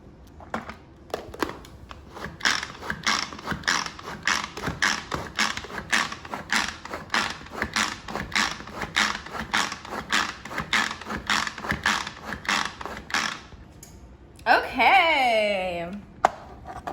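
A Pampered Chef plunger food chopper chops cilantro for pico de gallo. Steady, crisp clacking strokes repeat about twice a second for over ten seconds, then stop, and a short creaking, sweeping sound follows.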